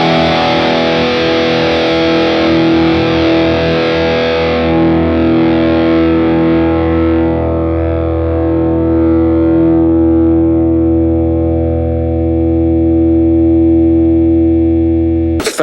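Distorted electric guitar, a 2019 Gibson Les Paul Jr. DC Tribute, holds one struck chord that rings loud and sustains for about fifteen seconds, with the bright upper overtones slowly fading and no other sound.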